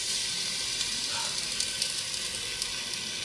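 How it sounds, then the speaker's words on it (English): Steady, crackling sizzle of beef frying in a hot pan for barbacoa, a continuous hiss with small pops throughout, close up and with no talking. "Little sizzle, little sizzle."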